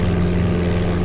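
Cessna propeller engine in the game Flight Simulator 95, bassy, with a constant loud buzzing drone. It holds steady for a brief moment and stands alone without speech.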